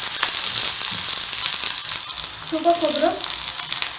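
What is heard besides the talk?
onion and dry coconut sautéing in hot oil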